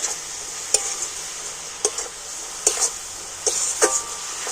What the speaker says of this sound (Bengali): এলাচ দিয়ে আরও একটু নাড়াচাড়া করে নেব